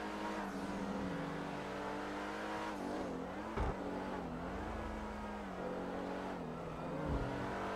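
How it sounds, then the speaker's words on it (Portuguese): In the GTA V video game, a turbocharged Hyundai Veloster accelerates hard, its engine note rising and falling through revs and gear changes with faint tire noise. The sound is steady and moderately quiet, with no speech. "Vou acelerar agora"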